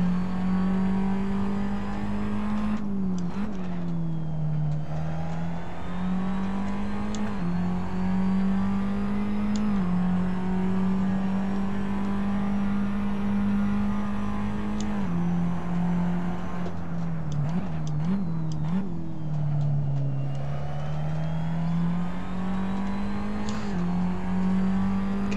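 A Formula Abarth race car runs on track at Sepang, its engine droning loud and close throughout, the pitch rising and dipping with gear changes and throttle lifts through the corners.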